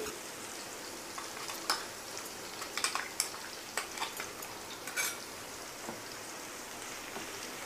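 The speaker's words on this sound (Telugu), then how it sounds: "ఇది వేసిన తర్వాత కొద్దిసేపు ఫ్రై అయితే సరిపోతుందండి" Spice powder frying into a bottle gourd curry in a pan gives a faint, soft sizzle with scattered light crackles and a few brief stirring clicks, with no voices.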